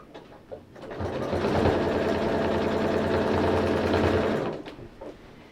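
A sewing machine stitches a quilt seam in one continuous run of about four seconds, a fast, steady mechanical whir close to the listener that starts and stops abruptly.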